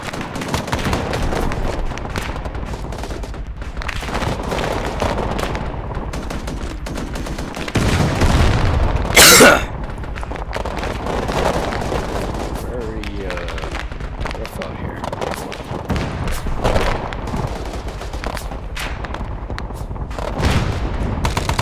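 Gunfire and heavy blasts fill a Vietnam-themed war video game, with steady distant shooting and a louder burst partway through. Players talk over radio throughout.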